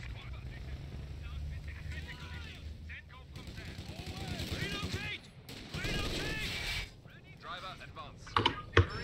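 Machine gun fire and battle noise from the video game Company of Heroes, with repeated bursts of shots over a continuous din while players talk throughout.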